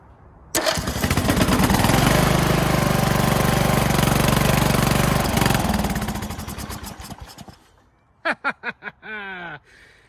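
The engine of a Craftsman LT2000 lawn tractor fires after some two-stroke fuel is squirted into it. It starts and runs loudly and steadily up close, slows and dies, and a few sputtering cranks follow.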